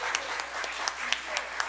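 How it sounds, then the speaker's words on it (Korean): Audience at a political party policy concert in Changwon clapping, a brief burst of dense applause with several sharp individual claps standing out near the listener. "큰 박수 부탁드리겠습니다"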